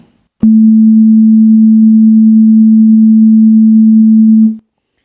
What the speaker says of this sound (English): you can hear that that's a very clean, modern sounding sine wave